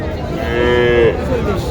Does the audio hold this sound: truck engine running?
no